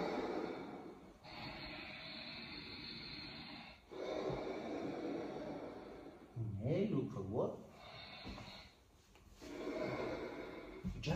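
Steady nasal breathing during an Ashtanga yoga practice. Long, even inhales and exhales of several seconds each come and go close by, with a brief voiced gasp or snort partway through.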